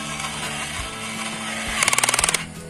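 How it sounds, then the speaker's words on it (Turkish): A toy screwdriver from a kids' toy car assembly set whirs like a power drill in a short rapid burst of buzzing pulses near the end, over a steady background of music. "Aynı o matkaba benziyor ve çıkardığı ses de tıpkı matkap gibi"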